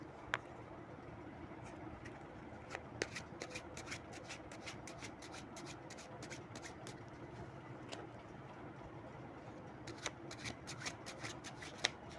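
Tarot cards being shuffled by hand, a steady soft riffling rub broken by sharp crisp card snaps, close and alone without any talking.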